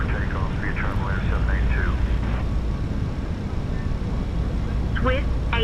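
A Vietravel Air airliner in Microsoft Flight Simulator rolls for takeoff with a steady, deep engine rumble throughout, while radio voices chatter over it.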